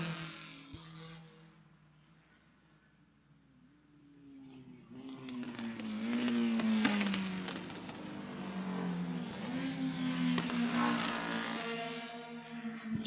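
Formula Junior vintage race cars run during practice at Lime Rock Park. A lone engine fades to near silence, then another swells in from a distance and revs loudly past with rising and falling pitch, staying present to the end.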